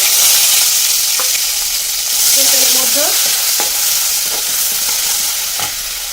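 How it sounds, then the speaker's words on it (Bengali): Onions fry loudly in oil with cardamom, cloves and a cinnamon stick, a steady close sizzle with occasional stirring clicks, cooked until reddish for an amra korma. "পেঁয়াজটা একটু লাল লাল করে ভেজে নেবো ভালো করে"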